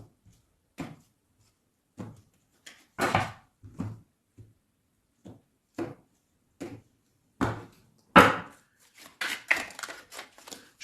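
A Witch Tarot card deck is cut by hand: a sparse series of short, crisp papery slaps and taps, a few spaced seconds apart, close and fairly quiet with no talking.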